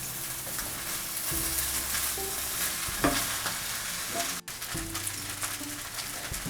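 Food stirred in a hot frying pan, a steady sizzle with scraping strokes of a utensil against the pan and a brief clunk partway through.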